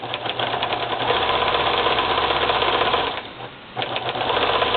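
Domestic sewing machine stitching fabric for a last-minute Halloween costume, a steady close mechanical whir with a rapid needle rhythm, slowing briefly near the end before picking up again.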